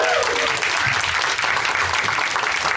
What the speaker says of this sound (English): Big round of applause for Tia.